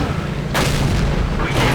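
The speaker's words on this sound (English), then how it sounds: "And my last shot bounces." T69 tank gun in a tank video game firing a shot that bounces off armor, a sudden loud booming blast at mid-clip with a sustained rumbling tail and a second surge near the end.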